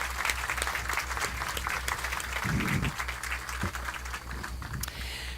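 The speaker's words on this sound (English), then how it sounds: "let's thank them with our applause" Applause for officials at a building groundbreaking ceremony in Dallas, a fairly quiet crowd clapping steadily outdoors, with a low, regular hum underneath and a few brief voices mixed in.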